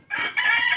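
A chicken gives a quick, close clucking squawk, brief and loud, with no talking.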